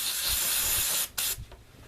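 An aerosol spray cleans a dirty quick-drain oil valve during pre-season oil-change maintenance, a loud steady hiss lasting about a second, then a short gap and one brief second burst, with no talking.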